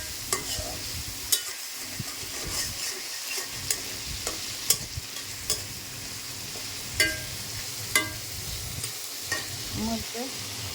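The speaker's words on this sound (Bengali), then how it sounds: "এখন আলু দিয়ে দিলাম।" Potatoes fry in a pan for a rohu fish curry. A steady crackling sizzle runs throughout, broken by repeated scraping taps of a spoon stirring the pan, close and fairly faint.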